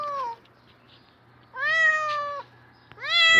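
A cat with its paw stuck in a concrete block meows loudly and plaintively three times, close up, each cry rising then falling, with short quiet gaps between.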